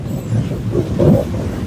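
Train running on the Howrah-Amta rail line in Howrah, West Bengal, heard as a steady, fairly loud low rumble of rolling wagons that swells briefly near the end, with no voices.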